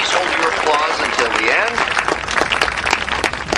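Applause from an audience at a school award ceremony, loud sustained clapping that runs steadily, with a voice speaking over the first part before the clapping carries on alone.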